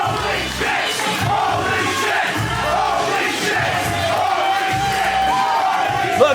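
A wrestling arena crowd roars for a newly crowned heavyweight champion, loud massed voices swelling in rhythmic, pulsing bursts as if chanting, filling the whole stretch.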